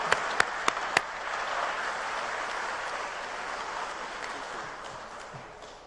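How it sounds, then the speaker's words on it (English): An audience claps for Mayor Butts of Inglewood at a business summit's main room, beginning with a few sharp, separate claps before swelling into steady, full applause that fades slightly toward the end. "Let's give him a round of applause"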